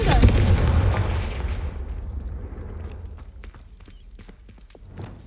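A Confringo blasting spell in Hogwarts Legacy goes off with a heavy booming explosion that rumbles loudly and decays over a few seconds, followed by faint scattered crackles.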